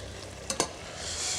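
Caramelized pear sauce with sugar simmers quietly in a pan, a soft bubbling hiss with two brief clicks partway through, faint and continuous with no voices.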